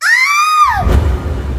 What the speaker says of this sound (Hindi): देखने के बाद जोर से चिल्लाने लगती है।